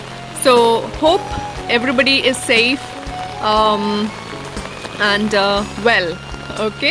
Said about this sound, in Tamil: ஸோ இப்போ உங்களுக்கு இந்த சவுண்ட் பயங்கரமாக கேட்கலாம் பேக்ரவுண்டில், இந்த மழை சவுண்டு.